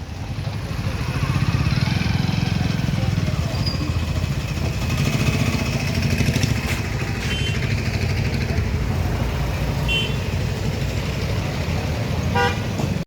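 A motorcycle rumbles steadily on a road in India, its engine droning throughout under traffic noise, with several short horn toots from surrounding vehicles near the end.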